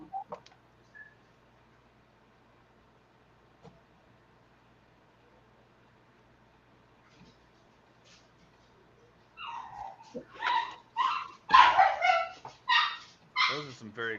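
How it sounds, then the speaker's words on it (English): Several excited dogs bark and yip in a loud burst near the end, after a long quiet stretch with faint background sounds. "Those are some very excited dogs."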